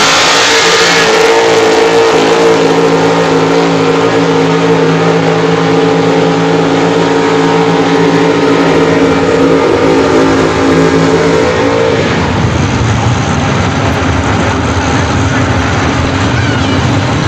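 A Superstock pulling truck, the Lamaducci truck, roars at a Madera, California truck pull, its engine revving loud and sustained at full power before the pitch shifts and the roar settles into a rougher, lower drone.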